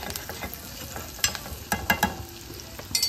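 Onions sizzle in a pan with a pinch of turmeric while a spoon stirs and scrapes them, with irregular clinks and scrapes over a soft steady frying hiss, close up and no talking.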